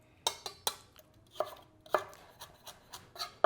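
Celery is chopped on a cutting board with a knife, about a dozen sharp, close thunks at an uneven pace, each with a quiet gap after it.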